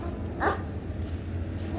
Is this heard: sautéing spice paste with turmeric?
no